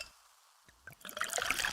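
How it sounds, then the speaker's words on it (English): Pepsi Zero Sugar cola being poured: near-silence gives way to a couple of soft clinks, then a fizzing, splashing pour that swells and stays bright and close, crackling with carbonation. "Listen to that endless pour."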